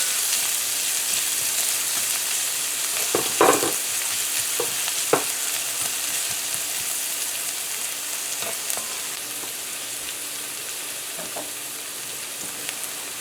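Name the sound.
scallions and pepper frying in a pan for corned mutton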